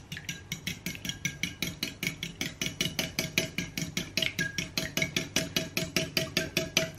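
Eggs beaten with salt and pepper for a quiche: a whisk or fork clatters against a bowl in a fast, steady rhythm of sharp ticks, close and continuous with no talk.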